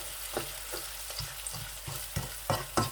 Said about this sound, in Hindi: प्याज जो है हल्की सी आंच पर अच्छी तरह से पक जाए।